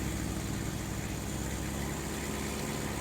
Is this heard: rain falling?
no